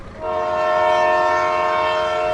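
At a railway station, a train horn sounds loudly and steadily, a sustained harmonic blast beginning just after the start and holding to the end over low rumbling rail noise.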